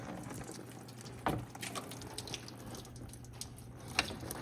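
Coolant from a Scania race engine being stripped down pours and splashes faintly and steadily, with a couple of sharp drips and light clanks.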